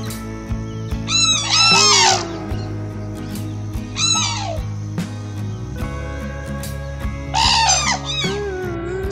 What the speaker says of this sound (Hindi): सारस आपस में बात करने के लिए अक्सर अलग अलग तरह की आवाजों को निकालते हैं